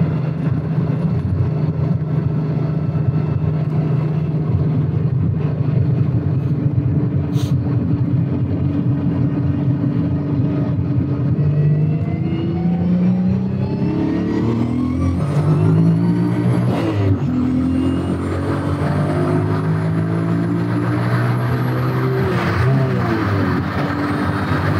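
A modified VW Golf on a test drive running 0.9 bar boost, its engine droning loudly from inside the cabin and rising in pitch under acceleration through the gears, with brief dips at shifts.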